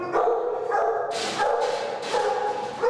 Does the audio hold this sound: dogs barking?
yes